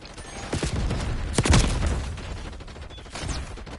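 Call of Duty: Black Ops 6 match with chaotic gunfire: bursts of shots and a heavy blast near the middle, over a constant din of battle noise, with no talking.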